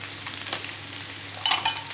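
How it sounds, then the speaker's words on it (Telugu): A spiced curry seasoned with salt, chili and turmeric being mixed in a frying pan, a soft steady sizzle with a couple of brief scraping stirs near the end, close and moderately quiet. "ఇలా బాగా కలపాలి"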